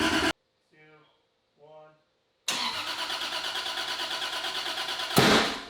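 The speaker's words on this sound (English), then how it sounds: "Oh, big backfire." A Toyota 2JZ engine in a MKIV Supra cranks briefly twice, then fires and idles with a steady pulsing rumble before a loud sharp backfire near the end, up close; a voice speaks early on.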